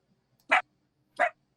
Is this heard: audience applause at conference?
no